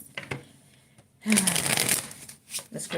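Tarot cards being shuffled by hand during a reading, a dense riffling burst in the middle with lighter card handling before and after, close and fairly loud.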